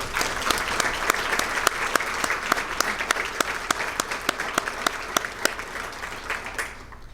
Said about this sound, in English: So I really would like you to give all of these men a round of applause again.